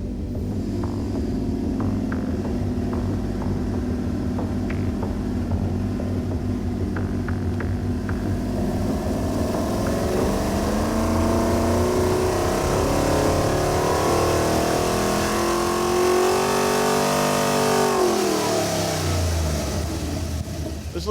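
Rebuilt junkyard LQ4 6.0L V8 on an engine dyno, roaring loudly and steadily through a full power pull, pitch climbing as it revs up then dropping off sharply near the end.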